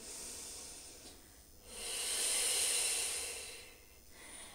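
Slow, deep breaths during a relaxation and wellness exercise, close and audible on their own: an airy inhale or exhale, a pause, then a long, loud breath that swells and fades.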